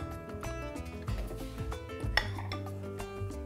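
Egg yolks are being stirred together with a flour and starch mixture for lemon cream, with a utensil clinking and scraping against the bowl in quick irregular strokes at close range.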